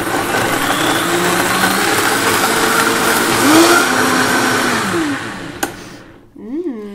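A Vitamix blender whirs through a turmeric and milk smoothie, a loud steady motor drone that winds down near the end, followed by a brief knock and a short burst of speech.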